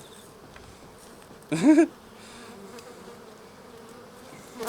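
Bees buzz in a hive in a Small Hive Beetle trap setting, with a soft constant drone and one louder close buzz passing by; a voice speaks briefly.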